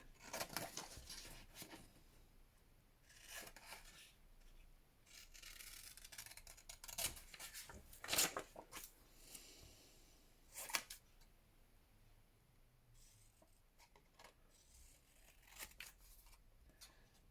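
Scissors trim a paper collage specimen tag all the way around, with soft snips and rustling paper coming in irregular bursts close to the listener. There is no talking.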